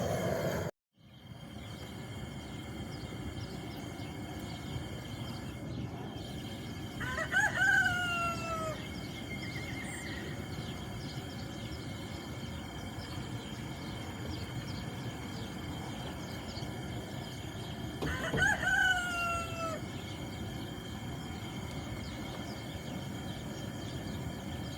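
Chickens and a rooster on a farm, with two distinct cock-a-doodle-doo crows at moderate distance several seconds apart over a steady bed of ambient clucking and insect noise, no talking.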